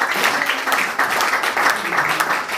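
Crowd applause from an audience at a talk in Kinshasa, a dense sustained wash of clapping at steady volume throughout.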